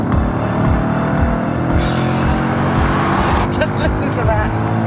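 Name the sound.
Audi B7 RS4 4.2-litre V8 engine revving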